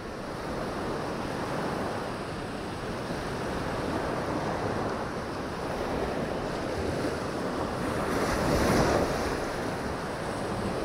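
A strong sea current and surf roar in a continuous, dense wash, with wind buffeting the microphone and a slightly louder surge of breaking water near the end.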